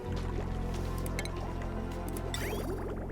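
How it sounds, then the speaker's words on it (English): Water gushes out in the Oxygen Not Included base-building game, a steady liquid splashing and dripping wash with bubbly squishes, loud and continuous over a low musical hum for a few seconds. "the next thing we're going to do is release this water"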